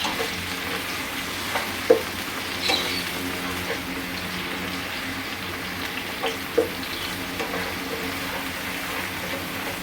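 Ginger garlic paste frying lightly in hot oil in a pan, a steady loud sizzle with occasional spoon taps and stirring scrapes, close and continuous with no speech.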